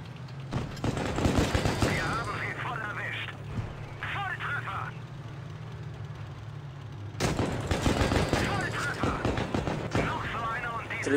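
Dense rapid bursts of gunfire from the tank game World of Tanks Blitz, loud and repeated in volleys, with people talking throughout.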